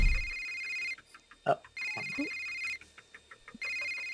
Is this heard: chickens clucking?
no